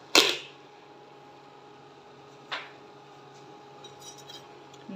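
Silver bangles drop into a pot for cleaning, giving one sharp metallic clink at the start and a second softer one a couple of seconds later, with a quiet background hum in between.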